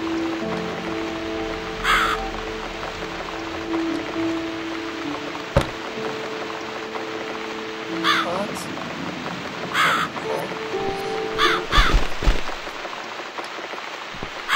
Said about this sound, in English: I guess I'll need to make more effort to scare this awful bird away.